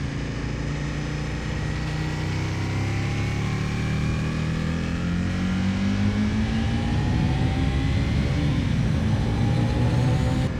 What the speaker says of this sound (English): Well, listen to that induction sound.